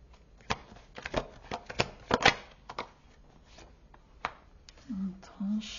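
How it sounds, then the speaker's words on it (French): Tarot cards shuffled and drawn by hand: a series of quick, close papery riffles and snaps, with a soft voice murmuring near the end. "je vais tirer le reste des cartes"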